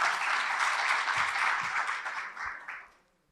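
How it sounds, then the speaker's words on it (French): A round of applause from a conference audience at an agritech panel as a speaker is introduced, dense clapping that holds steady then fades out over the last second. "Sous vos applaudissements, Arwa Ahmedi"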